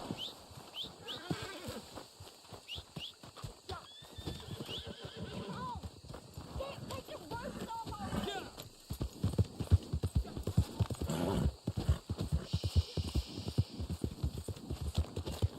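Rhythmic clip-clop of hooves with a horse's whinny in the video game Red Dead Online, set against a low hum and scattered thuds of game ambience.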